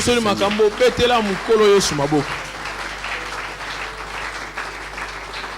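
A church congregation applauds and cheers at a Sunday worship service, beginning under a preacher's loud voice and continuing as sustained clapping and crowd noise once he falls silent.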